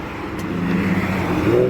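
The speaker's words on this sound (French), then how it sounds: "même s'il y a le bruit de la circulation" Road traffic hums nearby beside the Seine as a car passes, its engine noise swelling slightly toward the end of the short stretch.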